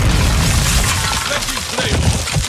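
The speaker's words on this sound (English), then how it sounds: "Grenade!" Grenade blast in Call of Duty Modern Warfare II Warzone: a loud, booming explosion amid a dense burst of rapid gunfire and crackling debris, with a voice briefly audible in the chaos.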